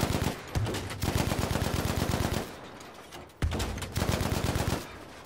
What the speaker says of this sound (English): I'm being shot at. I'm being shot at.